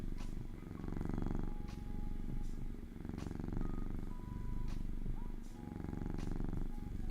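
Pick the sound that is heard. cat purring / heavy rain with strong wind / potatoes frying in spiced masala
cat purring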